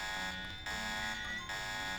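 A fire alarm sounds steadily, a loud electronic buzzing tone that pulses in a repeating on-off pattern, with brief dips roughly every eight-tenths of a second.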